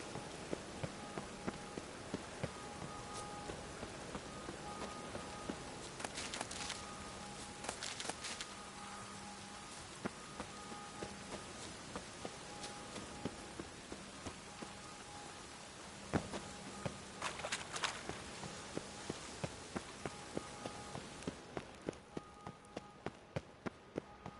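Steady rain falls on city streets in The Witcher 3 on PS5, a soft continuous patter with light regular taps and a few brighter splashes, fairly quiet and with no voices.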